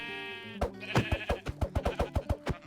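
A Minecraft sheep gives one clear bleat, followed by a quick run of about a dozen evenly spaced thuds and clicks, close and fairly quiet.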